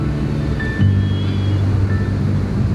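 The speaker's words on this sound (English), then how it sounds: "Relax and listen to the sound of the waves." Ocean waves wash onto a beach at night during a full-moon bonfire gathering, a steady broad surf roar with a low hum underneath and faint whistly tones, with no voices.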